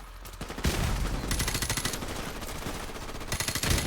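Rapid automatic machine gun fire from the video game Call of Duty: Modern Warfare Remastered clatters in dense, continuous bursts with a few brief gaps, loud and close throughout, with no talking.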